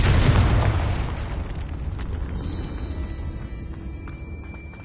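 A Confringo fire spell explodes in a Harry Potter video game, a loud booming blast with a heavy low rumble that decays over several seconds into a crackling, fading tail.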